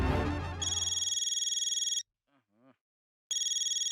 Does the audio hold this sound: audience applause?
no